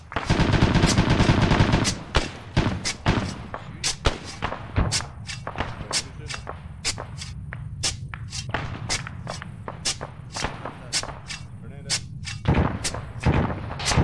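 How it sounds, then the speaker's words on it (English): Combat in the ArmA 3 video game: a dense opening burst of gunfire, then a long run of sharp, closely spaced shots and distant booms, with faint voices underneath. "who are you shooting at?"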